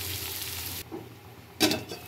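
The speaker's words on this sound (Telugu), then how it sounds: "ఇప్పుడు కలుపుకొని కొద్దిగా సిమ్లో పెట్టి మగ్గించుకుంటే బంగాళదుంప ఫ్రై అయిపోతుంది" Potatoes frying in oil in a pan, a steady broadband sizzle that drops quieter partway through, then a brief louder burst of stirring and spattering near the end, with no talking.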